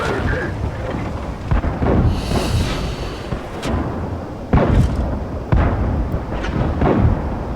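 Tank cannons boom in World of Tanks, several heavy thudding shots spaced a second or so apart over a rumbling battlefield bed, loud and close with a brief rushing hiss after one blast.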